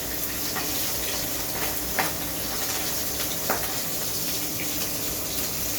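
Hilsa fish fry in oil with a faint, continuous sizzle and occasional soft clinks of stirring, steady and low throughout.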